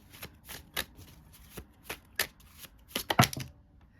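Madame Endora's fortune cards are shuffled by hand, giving a run of crisp, uneven riffles and slaps that grow denser toward the end, close and clear with no speech.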